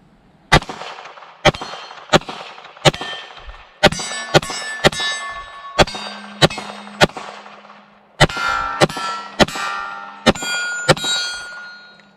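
Sharp, metallic gunshots from a gun fitted with a Trustfire GM35 weapon light, about fifteen loud reports in uneven bursts with ringing tails, firing nearly nonstop over a faint room hum.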